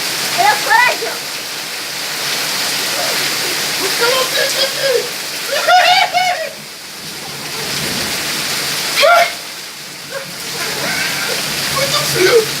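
Heavy rain pours down outdoors in a steady broadband wash while people shout and talk over it, with brief vocal bursts breaking through the constant downpour.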